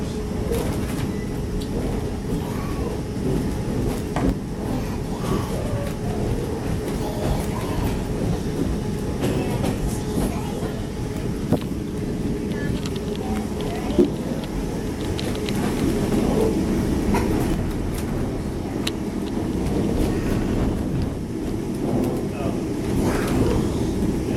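Strasburg Railroad train rolling along the tracks through Pennsylvania Dutch farm country, a steady low rumble and rattle of the cars continuing throughout with wind noise and faint background voices.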